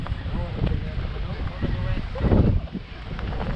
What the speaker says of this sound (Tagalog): Sa lakas po ng hangin